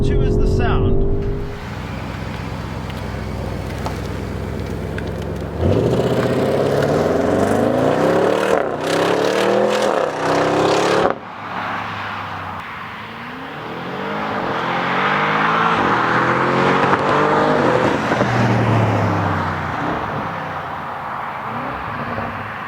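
Audi RS7 engine under hard acceleration, climbing through several revving gear pulls with brief shift dips, loud and close, with a steady whir of road and wind noise between pulls.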